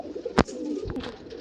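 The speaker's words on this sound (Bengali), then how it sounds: "এটা একটা মাদা পায়রা" A female pigeon kept with Kala Sobuj fancy pigeons gives low, soft coos. One sharp flutter or tap is heard close by.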